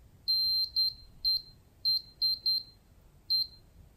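A SARCTRAC 3D sensor emits high, thin electronic beeps during calibration, seven short bursts in an uneven pattern, some paired close together, with quiet gaps between.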